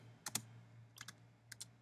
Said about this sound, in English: once you're in Terminal, you'll type in this command